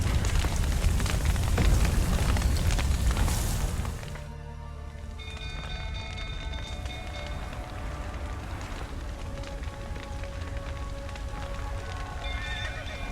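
Horses neigh and whinny with clip-clopping hooves in The Witcher 3, loud and dense at first, then a quieter stretch with repeated whinnies and scattered hoof steps over a steady game ambience.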